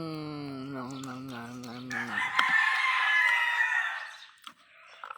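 A Texas breed rooster gives one long, loud crow close by, its strained call rising and breaking off into a ragged, noisy end before quiet returns.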